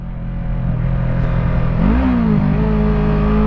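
A Yamaha R3 motorcycle engine idles close by, then gives a brief rising rev around the middle before settling back to a steady hum.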